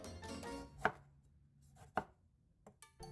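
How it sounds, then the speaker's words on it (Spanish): Knife chopping a tomato into small cubes on a cutting board, three or four distinct crisp knocks spaced unevenly apart, close and clear with quiet between strikes. "vamos a proceder a cortarlo en cuadritos"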